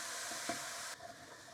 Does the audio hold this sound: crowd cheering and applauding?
no